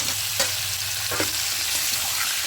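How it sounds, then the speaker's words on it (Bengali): Chicken and potato pieces stir-fried in a pan for palak chicken give a steady sizzle, with a few scraping spatula strokes near the start and middle, and no voices. "আলুর সঙ্গে চিকেনটাকে খুব ভালো করে একটু কষিয়ে নেব"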